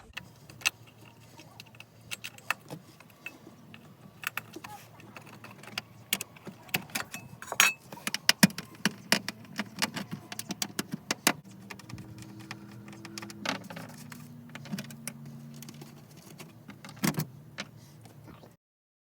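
Metal covers coming off a Nissan 240SX during a battery relocation, heard as scattered sharp clicks, taps and clinks of metal parts and tools, irregular and close, with a brief tonal whine near the end.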